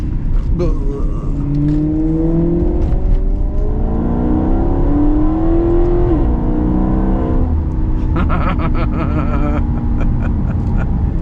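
A Maserati GranTurismo MC Sport Line engine howls through rising gears, high-revving, loud and close, with sharp downshift blips and crackles near the end.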